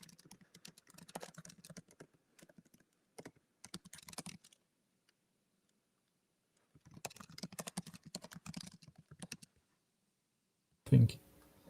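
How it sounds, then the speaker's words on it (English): Bursts of rapid keyboard typing with clicking keys, separated by pauses, then a brief louder thump at the end. "I'm typing questions to Fabien."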